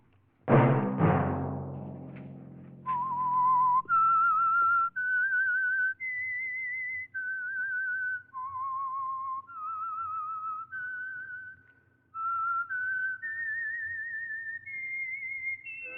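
A lone whistled melody of clear, sustained notes stepping up and down, the 1949 radio show The Whistler's signal tune, opened by a bright struck tone, with brief pauses between phrases.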